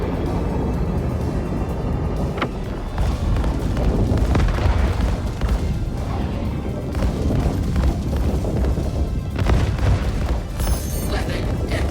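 Laser cannon fire and explosions from a space combat video game form a dense, continuous roar of booms and blasts that stays loud and steady throughout.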